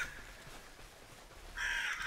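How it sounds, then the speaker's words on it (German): Ravens cawing in the Bigfoot video game, a faint call early on followed by a louder burst of harsh caws near the end over a quiet ambient background. "Das sind Raben, die mich nerven"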